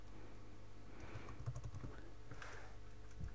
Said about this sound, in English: I'm going to use this text tool and type something like